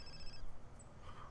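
A phone rings in The Sims 4, a faint, short electronic trill at a low level that cuts off partway through, with soft game sounds after it.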